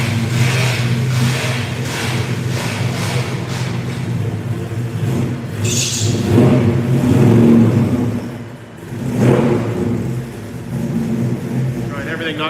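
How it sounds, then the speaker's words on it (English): A hot rod car engine revs at a speed shop as it drives off, a rough, throaty rumble that rises in bursts and fades, with people talking over it. "The car sounds so good."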